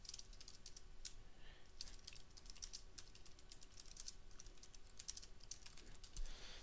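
Rapid, light clicking of a computer keyboard as a page title is typed, steady bursts of keystrokes close by over a quiet room hum, with no speech.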